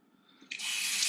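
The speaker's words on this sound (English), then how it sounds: "pour your dirty water away, and you can rinse it out with fresh water" Water gushes steadily from the opened rubber flap of a Bissell Pet Stain Eraser portable carpet cleaner's tank as the dirty water is poured away. It starts after a brief quiet moment and continues as a close, continuous splashing flow.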